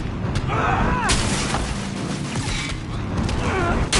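Gunfire rings out during Spider-Man video game play, with several sharp shots and booming bursts mixed with mechanical creaks and clatter, dense and continuous over the game's background din.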